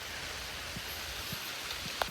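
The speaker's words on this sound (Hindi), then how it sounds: "अब बारिश स्टार्ट हो गई बहुत तेज़" Heavy rain falls over a dense jungle near Vietnam's Cu Chi tunnels, a steady broadband hiss of downpour with no voices and a faint rustle near the end.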